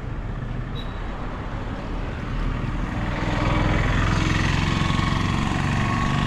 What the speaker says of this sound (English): Tuk-tuk, now they are overtaking, like they want to overtake the motorbike